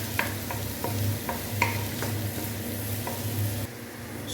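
A spatula scrapes and stirs tokwa sisig, fried tofu seasoned with pepper, in a hot pan, tapping rhythmically every half second over a steady, close sizzle, with no talking.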